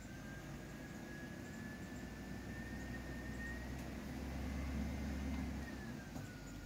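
A school bus engine held at about 1,000 RPM with the emergency brake set gives a steady, heavy low rumble with a faint whine above it, swelling slightly in the middle before settling, with no talking.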